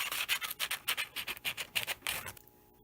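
A rapid rasping grind of a rotary burr deburring cut sheet metal, pulsing in quick uneven strokes close up, then stopping.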